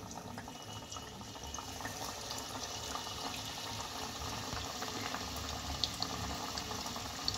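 Sweet potato pitha dropped one by one into hot frying oil over a gas flame gives a steady, close, even sizzle and hiss with faint crackles, no talking.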